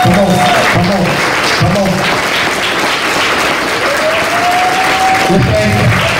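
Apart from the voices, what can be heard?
church congregation applauding children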